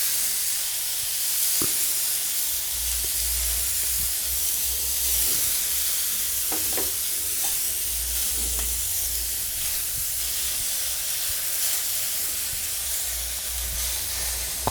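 Snake gourd pieces sizzle steadily on a hot dosa griddle, a continuous loud hiss and crackle close by with no talking.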